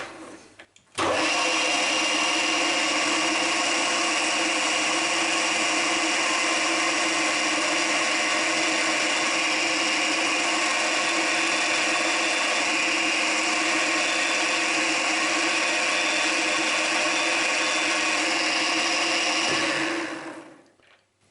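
A 3mm carbide end mill cuts a 120-tooth gear with a steady, loud, high-pitched machining whine that holds unbroken for about twenty seconds, then stops.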